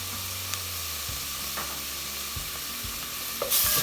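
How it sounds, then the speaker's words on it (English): Ginger garlic paste frying in a pan with onions for a curried coconut cream soup, giving a steady close sizzle with occasional stirring scrapes and no talking. "Cook the ginger garlic paste a little bit, fry it."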